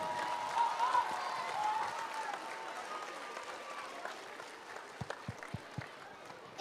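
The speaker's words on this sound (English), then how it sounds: "So give a big round of applause to them." Distant crowd applause at a school annual function after a performance, a dense wash of clapping that fades, with a few louder thumps near the end.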